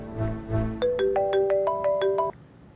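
An electronic phone ringtone plays a bright, rising melodic pattern of tones, clear and close, then stops abruptly.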